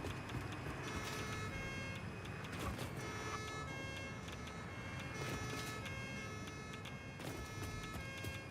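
Alarm sirens blaring at a power plant in a factory-building video game, a dense, continuous electronic wail layered with steady machinery hum, loud and unbroken throughout with no pauses.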